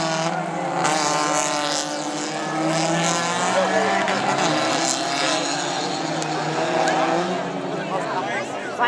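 Race cars at a slot-car or racing event pull away on the track, producing a loud, continuous whining engine drone with shifting pitch, while people talk over it.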